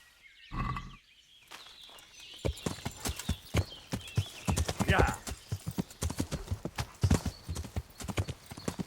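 Horse hooves clip-clop in a steady, quick rhythm on a hard surface in the video game Kingdom Come: Deliverance, with a brief voice or whinny near the start.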